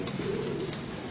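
Pigeons cooing in a rooftop loft, a soft low continuous coo close by with faint chirps above a steady background hum.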